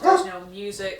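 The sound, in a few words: dog barking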